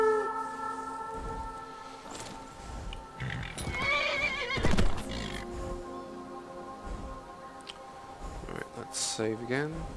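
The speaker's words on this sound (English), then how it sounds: "horse call." Summoned by a horse call in the video game Skyrim, a horse whinnies and neighs, and its hooves clip-clop among other game sounds, with a second loud whinny near the end.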